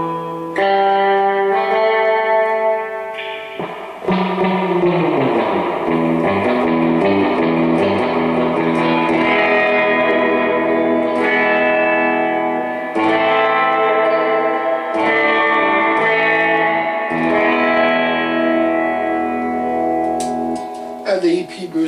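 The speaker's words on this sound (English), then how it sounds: "You can just hear the reverb." An electric guitar through a Nocturne F Bomb 63 and Gomez El Sonido rings out chords and notes with a noticeable reverb tail washing behind each strum, moderately loud and unaccompanied.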